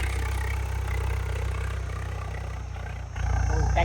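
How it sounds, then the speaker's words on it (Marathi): A tractor engine runs steadily on a broccoli farm near Nashik, a continuous low droning rumble with no pauses and no talk. "आवाज ट्रॅक्टर आवाज येते"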